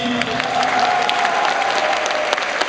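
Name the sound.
audience applause for costume contest winner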